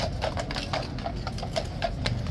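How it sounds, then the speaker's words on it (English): Police horses' hooves clip-clopping on pavement, a quick, even run of crisp hoof strikes, a little distant and fairly quiet, with no talking. "the police horses do wait"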